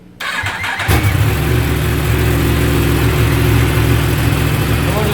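A brand-new Yamaha R1M motorcycle engine catches and settles into a loud, steady idle while warming up, a dense continuous rumble close by with no voices.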